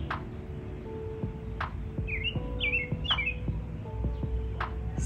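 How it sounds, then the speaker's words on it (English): Birds chirp and tweet in a garden in spring, with short squawks and bright whistled calls scattered across a steady outdoor background, fairly close and without talk. "I don't know if you guys can hear the birds in the background still here."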